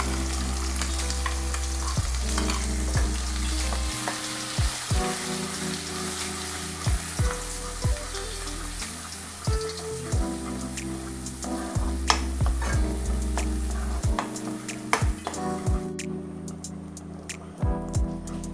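Ground paste sizzles loudly in a hot pan while being fried for restaurant-style paneer butter masala, a continuous dense crackle broken by occasional scraping stirs, with no voices.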